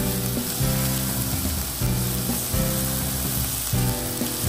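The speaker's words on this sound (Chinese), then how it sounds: "内腿肉一到铁板上， 立刻滋滋作响。" Kobe beef inside round sizzles loudly on a hot teppanyaki iron griddle, a dense continuous hiss with several rhythmic thumps and scrapes from the chef's tools, close and with no talk.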